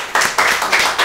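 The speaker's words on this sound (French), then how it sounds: "Pour vous, on applaudit s'il vous plaît." Short burst of audience clapping at a school quiz game, with strong, near-regular beats about every fifth of a second.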